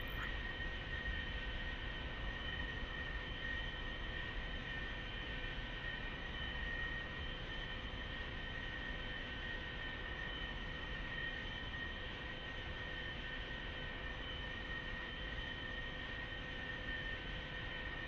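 A-4E jet in the DCS World flight game taxiing, heard as a steady, droning engine whine and rumble with constant tonal hum, unchanging and continuous throughout, no talking.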